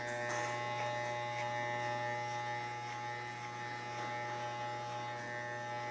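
An electric hair clipper runs steadily and close up during a haircut, held straight and tilted upward as it moves through the hair, giving a continuous even buzz with slight texture changes and no speech.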